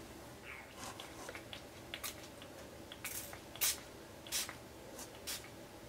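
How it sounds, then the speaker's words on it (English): Short, breathy hisses of ink sprayed from a spray bottle onto card stock, several separate bursts of varying length spaced irregularly, close and fairly quiet. "Going to spray about that much. This is a really good ink."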